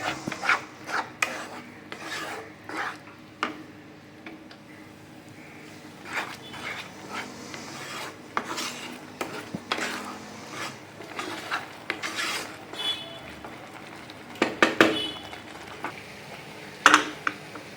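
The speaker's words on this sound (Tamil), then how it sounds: "சர்க்கரை நல்லா கரையிற வரைக்கும் நம்ம ஒரு 2-3 நிமிஷத்துக்கு நல்லா கிண்டி விட வேண்டியதான்" Semiya kesari stirred with a spoon in a pan while the sugar dissolves, giving repeated scraping and rubbing strokes in irregular bursts, some sharper clinks of utensil on the pan, close and with no talking.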